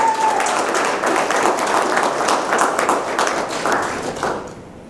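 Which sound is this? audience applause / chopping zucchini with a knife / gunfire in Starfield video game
audience applause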